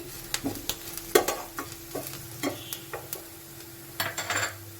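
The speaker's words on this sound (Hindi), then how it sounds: "तो देखिए प्याज मेरे हल्के हल्के फ्राई हो गए हैं।" Onions frying lightly in a pan for a mushroom curry, with a faint steady sizzle broken by frequent clinks and scrapes of a spoon stirring against the pan, close and with no talk.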